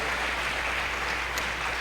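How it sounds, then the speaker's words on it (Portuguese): A church congregation applauds in worship, a dense, steady wash of clapping that fills the space at moderate loudness throughout. "Aplauda o Senhor, querido."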